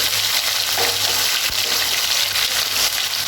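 Ground cumin and green chilli paste fry and sizzle in a pan for a vegetarian soybean curry, with a steady loud hiss and occasional scrape of stirring throughout.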